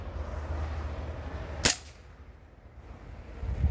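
A single sharp crack from an Artemis CP2 air pistol/carbine firing a pellet, close and clear, standing out abruptly against a low background rumble before fading into quiet.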